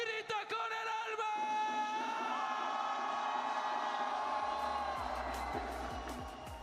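At a VCT Masters Santiago esports playoff, a big arena crowd roars and cheers continuously, with voices yelling and whooping over a dense wall of noise, a commentator talking over it.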